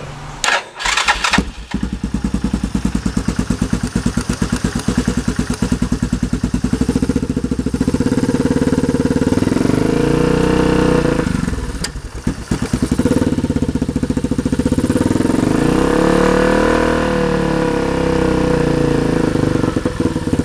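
A Yamaha Grizzly 660 ATV, a project machine being brought back to life, cranks briefly and catches, then settles into a loud, close, steady idle with a few throttle swells that rise and fall, no voices over it.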